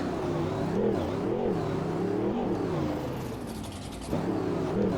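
A monster truck in the Rigs of Rods video game drives along a track with a steady loud engine drone that rises and falls as it revs, continuous and close with no talking.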